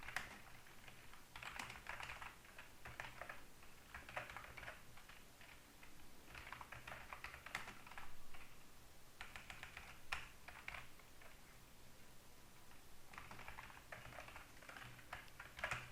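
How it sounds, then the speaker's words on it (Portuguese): Typing on a computer keyboard in bursts of quick, light key clicks separated by brief pauses, faint and close, with no voices. "Essa digitação eu vou dar um jeito de acelerar na edição"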